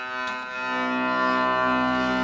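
The low drone of a hurdy gurdy swells in and holds as a rich, buzzing sustained tone, loud and close for a couple of seconds.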